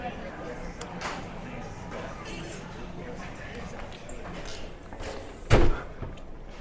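Outhouse-style bathroom door at a grocery store swinging open and shutting, a single sharp thump near the end above a murmur of background room noise.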